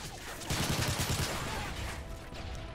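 Sustained gunfire in Call of Duty: Modern Warfare 3, a fast rattling fusillade of shots that holds steady from start to finish at fairly strong volume, with no voices on top.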